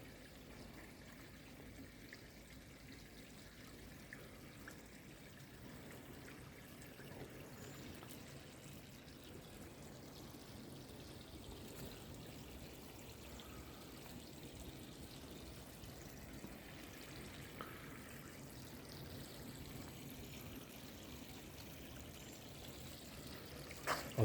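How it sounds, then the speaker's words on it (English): Running water flows steadily at a village well in Cerne Abbas, a soft continuous trickle and pour heard close and alone at low volume throughout. "I do love the sound of running water like that."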